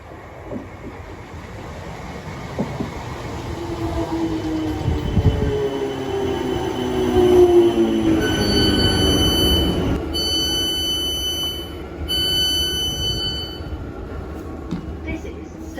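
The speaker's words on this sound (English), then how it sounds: "So we're gonna take that 4-car train from here to Epsom in about 12 minutes" An old four-car passenger train runs toward Epsom, rumbling and rising in pitch as it gathers speed, with wheel and motor whine and a few steady electronic tones near the end, while people talk over it.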